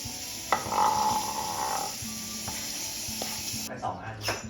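Green onions sizzling and frying in a pan after garlic, salt, pepper and light soy sauce, a steady close crackle with a few stirring knocks and a brief voice heard faintly.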